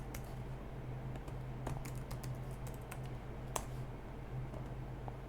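Someone types sign-up details on a computer keyboard, irregular bursts of light key clicks with a few sharper taps, close but quiet, over a low steady hum.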